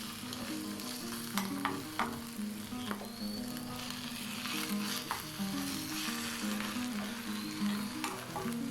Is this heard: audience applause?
no